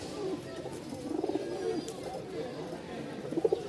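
Pair of pigeons, a female and male, cooing softly close by in short throaty bursts under someone talking.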